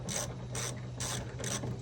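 Ratchet wrench clicking on 13 mm bolts at the radiator of a high-mileage Chevrolet Tahoe, four close bursts of rapid pawl ratcheting in a steady back-and-forth rhythm, with no talking.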